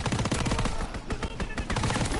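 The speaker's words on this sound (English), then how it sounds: "Enemy strafing run inbound." Enemy aircraft strafing run in Call of Duty WW2, a dense, loud, continuous rattle of rapid gunfire sweeping through without pause.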